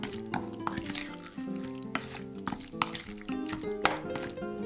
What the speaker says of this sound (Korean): 양념한 주꾸미 볶아주세요.